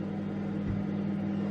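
A microwave oven cooking chips runs with a steady, low electrical hum that holds unchanged throughout, heard alone with no voices.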